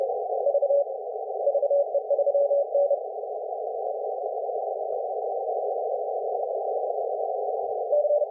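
A CW Morse code sidetone rings from an amateur radio during a contest, with a steady mid-pitched tone interrupted by keyed dot and dash bursts near the start and again at the end.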